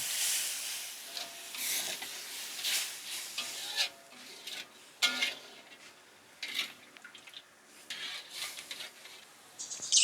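Water boils in a pan for seblak, hissing and crackling steadily with irregular bursts of bubbling, close by, with no talking.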